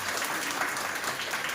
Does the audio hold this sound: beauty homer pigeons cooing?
no